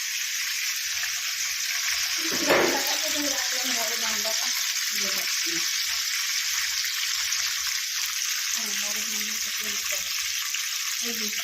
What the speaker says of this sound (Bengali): তেল গরম হয়ে গেছে এখন আমি এখানে কাঁকড়াগুলো আগে ভেজে নেবো